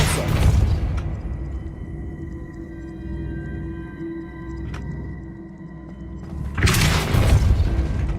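A spell in the Hogwarts Legacy video game bursts out as a deep booming blast, followed by a long rumbling tail with faint tonal shimmer, then a second heavy boom near the end.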